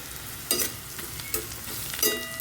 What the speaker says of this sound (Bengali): পেঁয়াজটাকে দিয়ে বেশ ভালো লাল লাল করে ভেজে নেব